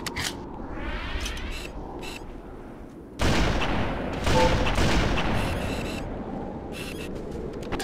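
Loud gunfire in a shooter video game: bursts of shots, a sharp heavy barrage midway that carries on for several seconds, then lighter scattered fire.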